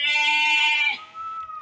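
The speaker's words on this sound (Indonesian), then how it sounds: "Kambing nih ya, kambing udah beranak nih." A newly kidded goat on a livestock farm gives one loud, close bleat lasting nearly a second, followed by quieter lower murmuring.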